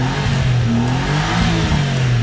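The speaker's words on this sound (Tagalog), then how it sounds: "So napakaganda ng tunog ng ating sasakyan." An all-wheel-drive mini van engine revving up close, a loud, steady mid-pitched drone with slight rises and falls in pitch throughout.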